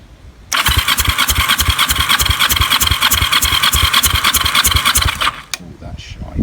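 A Kawasaki EN450 bobber motorcycle engine turns over on the starter, a loud, steady, rhythmic cranking churn lasting about five seconds without catching, then cutting off abruptly.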